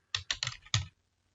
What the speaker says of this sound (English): you can access that simply by typing services here